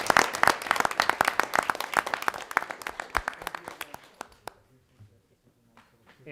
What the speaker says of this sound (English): I will add one last final round of applause for all of our guests and featured folks.